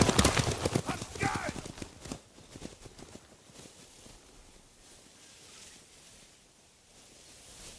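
Horses from the video game Ghost of Tsushima gallop off with rapid clip-clop hoofbeats and a whinny, loud at first then fading into the distance over quieter ambience.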